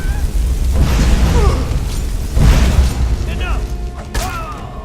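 Firebolt spells exploding in the Skyrim video game, two loud booming blasts with rumbling tails in quick succession, the second followed by a smaller thump, amid game effects and a speaking voice.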